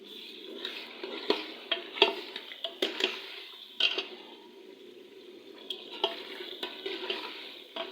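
Masala frying in a pan with a soft continuous sizzle, punctuated by repeated clinks and scrapes of a spoon stirring against the pan, close and steady throughout.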